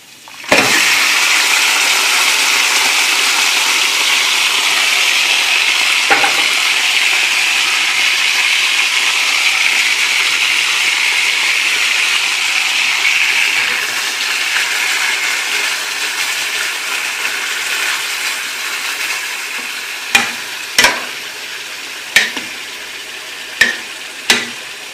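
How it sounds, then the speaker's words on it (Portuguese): Chicken pieces frying in oil in a wide pot for rice, a loud steady sizzle lasting throughout, easing slightly toward the end, with a few sharp clinks of a utensil against the pot near the close. "E já vamos deixar que ele frite bastante."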